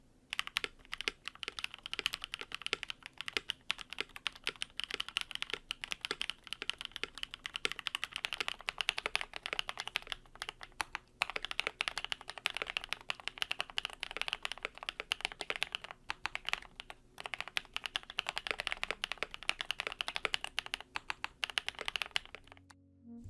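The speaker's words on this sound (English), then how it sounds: "The PE foam can change the sound of any keyboard drastically, and here's a sound test of PE foam with and without." Steady, dense typing on a BM65 mechanical keyboard, with and without a PE foam mod, runs close and continuous with rapid overlapping keystrokes and brief pauses, and no voices.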